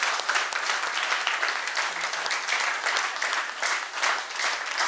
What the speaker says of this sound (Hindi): तो उसके लिए भी जोरदार तालियां